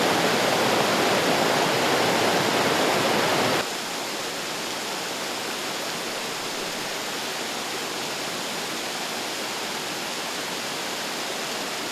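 Günpınar Waterfall on Şuhul Creek roars steadily as a dense, unbroken rush of water, loud at first and then slightly softer and more distant for the rest.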